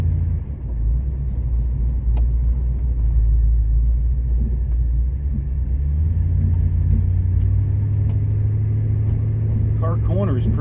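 A mildly built 1979 Pontiac Trans Am with a shaker hood, driving through corners, giving a deep, continuous engine rumble heard from inside the cabin, with faint jingles over it.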